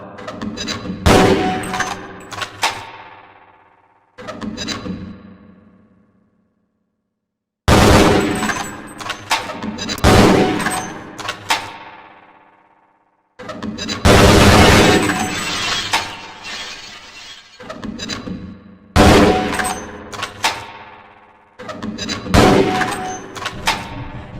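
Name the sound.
gunfire and grenades at target range, video game Half-Life: Blue Shift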